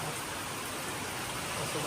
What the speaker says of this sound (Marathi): किती जोरात पाऊस आहे